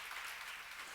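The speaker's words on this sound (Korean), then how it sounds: "이거 박수 좀 세게 쳐" Congregation clapping during a church sermon, a soft, even patter of many hands heard from a distance, faint and steady through a short moment.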